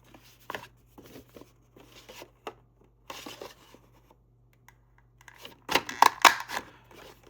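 A scallop paper punch cuts through a scrap piece of paper, heard as scattered soft clicks and rustles. A burst of sharper, louder clunks and snaps follows near the end, close and crisp in a quiet room.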